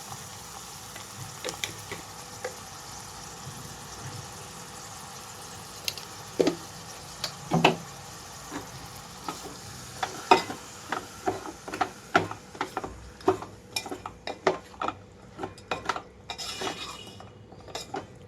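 Tomatoes with salt and turmeric cook in a pan for a tindora curry, with a soft background sizzle under frequent clinks and scrapes of a utensil against the pan that grow busier toward the end.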